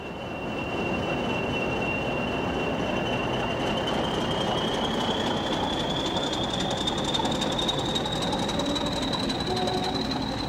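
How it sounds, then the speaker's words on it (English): A Class 40 diesel locomotive hauls a mixed freight train past Darlington on the avoiding line, a steady loud rolling roar with wheel squeal and a rising whine throughout. "A 40 passes Darlington on the avoiding line with a mixed freight bound for Healy Mills"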